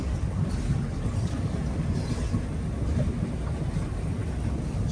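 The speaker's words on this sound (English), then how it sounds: "That lovely, lovely V8 rumble." Steady, smooth low rumble of a 2018 Rinker 290 EX sports boat's V8 engine idling, continuous and even, with faint wind and water hiss on top and no voices.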